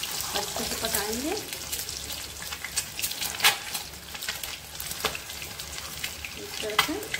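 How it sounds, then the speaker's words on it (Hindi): Eggs fry on a low flame, a steady sizzle broken by scraping and tapping as they are turned over in the pan, with faint voice-like sounds in the background. "हम इन्हें लो फ्लेम पर भूनेंगे, जब तक इसका कलर चेंज ना हो जाए तब तक हम इन्हें चारों तरफ से पलटते हुए अच्छे से पकाएंगे"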